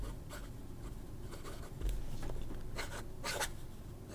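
A fountain pen with a wet, gushing triple-tail nib scratching across paper in short, quiet strokes and a few brief scribbles, close-up and faint, with no voices.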